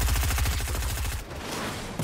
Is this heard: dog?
no